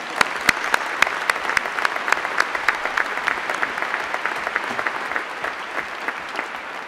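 Crowd applauding graduates at a university graduation ceremony for medicine and natural sciences, with steady sustained clapping and sharp individual claps standing out, gradually easing toward the end.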